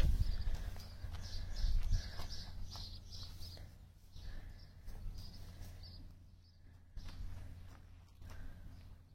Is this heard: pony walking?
yes